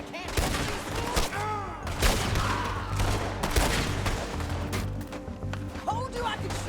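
Dense Red Dead Redemption 2 gunfight with rapid overlapping gunshots and ricochet-like whines in a continuous loud barrage, while characters' voices and game audio mix underneath.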